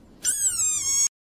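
A desert rain frog lets out one sustained, shrill squeak lasting nearly a second, clear and close, then it cuts off into silence.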